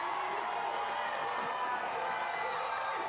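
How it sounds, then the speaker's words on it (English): Spectators cheering and roaring after a winning rally at a beach volleyball match in Joao Pessoa, a steady, dense crowd noise filling the whole stretch with no break. "The crowd is going crazy."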